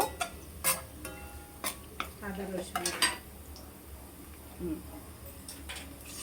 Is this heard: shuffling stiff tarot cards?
no